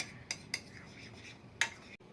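Utensils mixing freshly cut lemons and other ingredients together in a bowl, heard as a few sharp, separate metallic clinks and scrapes spaced across a quiet background, close and moderately loud, with no talking.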